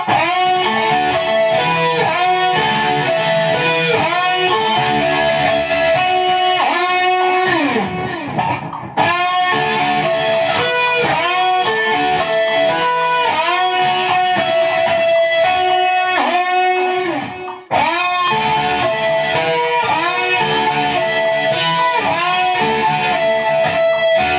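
Distorted electric guitar plays a fast melodic riff, with tremolo-arm dips bending notes down, two brief pauses breaking the steady loud passage.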